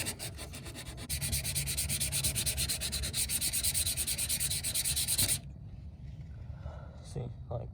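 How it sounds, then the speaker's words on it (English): Close steady scuffing of 220 grit sandpaper on a Nissan G35 car part to remove rock chips, a rapid rhythmic rasping that runs for about five seconds and then stops, with quiet handling noise afterward. "I'm just coming in and just scuffing this with 220, getting all those rock chips out"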